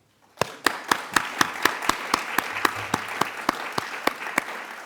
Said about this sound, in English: I ask you now to join me in a round of applause to commend them for their success.